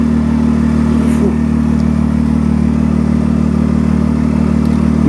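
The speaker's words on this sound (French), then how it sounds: "L'échappement il est fou." A modified Audi A7 widebody with a loud aftermarket exhaust drones heavily at close range, holding a steady, thick, buzzing engine note for several seconds without pause.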